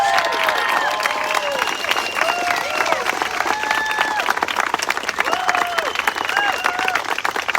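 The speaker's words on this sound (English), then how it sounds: "let's give them a huge round of applause" Applause from a crowd at a political rally or public gathering, steady and dense throughout, with cheering mixed in and some voices rising above the clapping.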